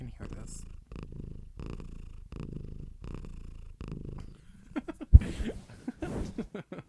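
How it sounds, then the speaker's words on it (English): A cat purrs in rhythmic rumbling cycles close to the microphone, steady and loud, before someone starts talking and laughing over a softer purr at the end. "Just audio of her purring."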